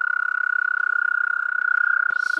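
A toad's mating trill, one long, even, rapidly pulsing tone held steadily and close, cut off at the end by a brief voice.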